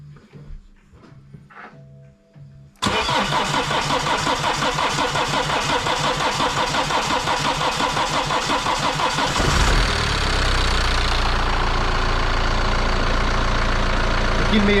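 A BMW N47 diesel engine cranks and fires up after a timing chain replacement, then settles into a steady, loud idle close to the microphone, with a change in tone near the end as revs drop.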